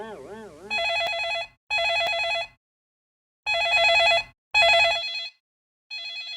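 An old-style telephone bell rings in repeated bursts, loud and close, with silent gaps between rings, following a wavering warble at the start, in a Hindi cartoon.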